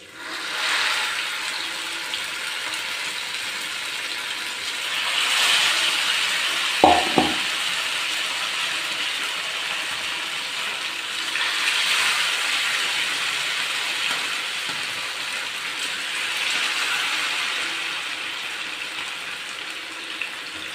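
Mackerel frying in hot coconut oil in a pan on the stove, a steady broad sizzle with gentle swells, joined midway by a couple of sharp clinks, with no voice over it.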